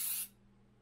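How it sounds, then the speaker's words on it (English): Pam cooking spray is sprayed into a baking pan for cranberry nut bread: one short, bright aerosol hiss lasting about a quarter second, close and fairly quiet, then near silence. "now what I'm going to do is spray this. This happens to be Pam"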